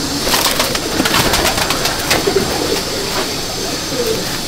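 Domestic pigeons cooing in a loft, several birds close by with repeated soft throaty coos over a steady bed of fluttering and rustling, no talk.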